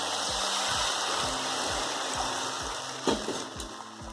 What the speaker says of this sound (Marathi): पाणी घालते. ह्यामध्ये गरम पाणी आहे.